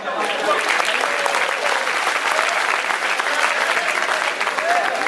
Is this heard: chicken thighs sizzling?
no